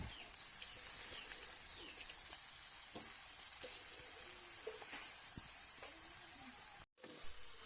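Taro leaves fry in a pan with red chilli for an Assamese kochu haak dish, giving a steady, close sizzling hiss with a few faint clicks and a brief dropout near the end, with no talking.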